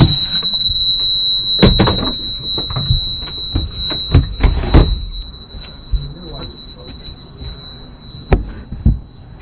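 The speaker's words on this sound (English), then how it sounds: "there it goes. My water bilge alarm." A boat's bilge alarm sounds a steady high-pitched electronic tone continuously beneath knocking sounds and voices talking nearby.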